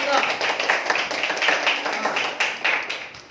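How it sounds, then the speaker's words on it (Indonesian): A class audience claps together for a student group in a quick, uneven patter of hand claps lasting a few seconds, with some voices mixed underneath. "Berikan tepuk tangan yang meriah untuk kelompok"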